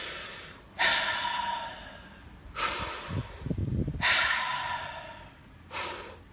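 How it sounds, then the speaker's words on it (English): Deep, forceful breaths of the Wim Hof breathing exercise done before a gym workout, four strong rhythmic inhale-exhale cycles close to the mic, each a loud rushing burst followed by a quieter pause. "Do some Wim Hof breathing"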